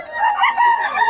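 A rooster at a cockfighting venue lets out a loud, close crow, a single wavering call lasting about a second.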